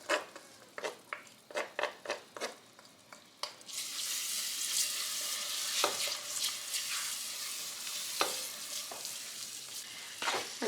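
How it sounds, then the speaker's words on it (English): A pot of curry cooks with minced garlic and ginger going in: several sharp stirring clatters at first, then a steady close sizzle with occasional utensil knocks, no talking. "it started simmering"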